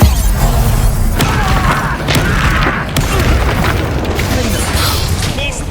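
The Bombarda explosion spell in Hogwarts Legacy booms loudly amid sustained rumbling, heavy impacts and crashing debris, with a few sharp hits standing out over a dense, continuous roar.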